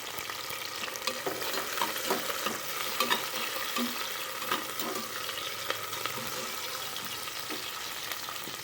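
Onions and a chopped tomato sauté in a pan for a mutton gravy, a dense continuous sizzle broken by frequent scraping stirs, close and steady throughout with no voices.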